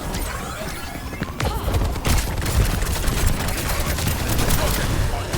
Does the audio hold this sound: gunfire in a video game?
yes